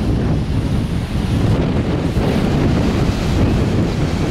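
Steady, loud wind buffeting the microphone at a kitesurfing spot, with a low rumble that rises and falls continuously and no voices.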